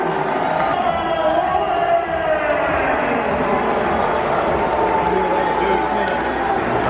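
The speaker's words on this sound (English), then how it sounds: "A mixed reaction for Bubba Wallace, mostly cheers" Large crowd at Bristol Motor Speedway cheering during NASCAR driver introductions for Bubba Wallace, a steady, broad roar of scattered voices and cheers spread around the grandstands, sustained throughout at moderate distance.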